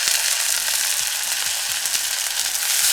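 Fennel seeds and curry leaves drop into hot oil already popping with mustard seeds for a Jaffna-style broad bean stir-fry, giving a loud, steady crackling sizzle with no talk.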